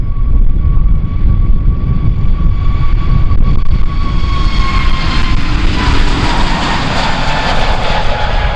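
Jet airliner on its takeoff roll at Kagoshima Airport in strong wind, a loud, sustained roar with a steady high whine across the whole stretch, close and continuous, no voices.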